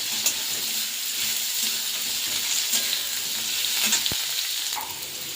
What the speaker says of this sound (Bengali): আলুগুলো আমি আগে ভেজে নেব, তারপরে বেগুনগুলো দেবো।